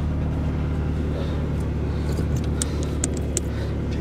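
A 1997 Volkswagen Jetta GT idles right after a cold start, its engine a steady low rumble heard up close with faint ticking and light rattles over it.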